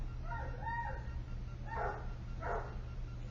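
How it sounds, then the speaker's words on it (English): A large dog barks outside near a garage in a condo complex, with three muffled, somewhat distant barks over a steady low hum. "I've never heard a big dog like that out here"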